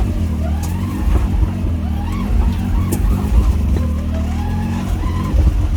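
A Can-Am Maverick X3 side-by-side's small engine drones and revs up and down steadily nearby, a buzzy motor note with occasional clunks, driving over rough bush ground.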